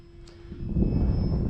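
A small RC model airplane flies overhead, its engine whine rising from faint to a fuller, louder drone within a second and a half, with no talking.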